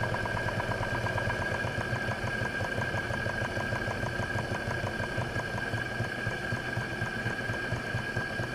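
A twin-cylinder live steam engine runs with a fast, even chuffing beat while its throttle valve is adjusted, close and steady with a constant mechanical hum and no break in the rhythm.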